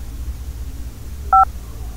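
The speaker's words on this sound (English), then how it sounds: "Press any key when you finish." A single short telephone keypad tone beeps once after a key press on an automated phone line, clear and steady over a quiet hum.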